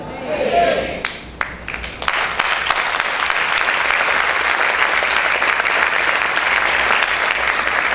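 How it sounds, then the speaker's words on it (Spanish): Church congregation applauding during a worship service, steady dense clapping that builds after a brief start and holds loud and continuous, with a voice briefly audible at the opening. "Y ese aplauso es para el Señor"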